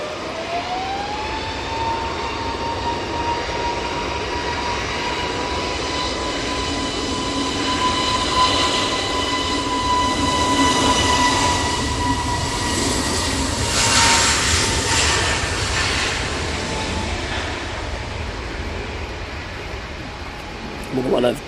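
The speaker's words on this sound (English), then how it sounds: "One of Jet2's stunning A321 Neo liveries in the .com livery. Now on the roll." A Jet2 Airbus A321neo rolls for takeoff at Manchester Airport during a storm, its engines holding a steady rising whine over a continuous heavy roar with wind noise, sustained and loud throughout.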